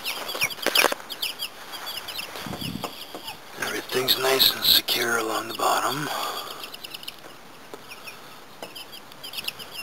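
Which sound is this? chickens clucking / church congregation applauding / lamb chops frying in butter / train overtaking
chickens clucking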